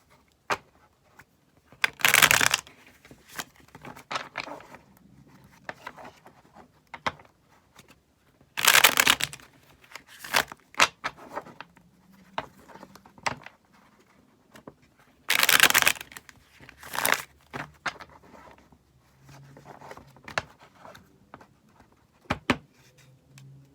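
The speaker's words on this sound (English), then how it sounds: "we're going to go ahead and get a good shuffle in for you guys" Tarot cards being shuffled by hand in bursts of riffling and soft shuffling, close and fairly crisp, with several louder riffles separated by quieter handling and pauses.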